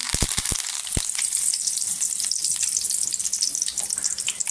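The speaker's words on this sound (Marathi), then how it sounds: "कढीपत्ता टाकायचा. छान असा कढीपत्ता तरतरला पाहिजे" Steady, bright crackling sizzle of curry leaves frying in hot oil for a tempering, continuous and close, with a few low thumps at the start.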